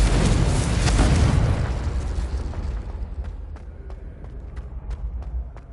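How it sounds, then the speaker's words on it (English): Confringo explosive spell blast in Hogwarts Legacy: a loud, deep booming burst that swells and rumbles, then slowly decays into a quieter crackling tail with faint scattered pops. "Incendio. Confringo."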